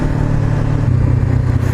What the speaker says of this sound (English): the freaking stock exhaust. My god. It sounds horrible, man.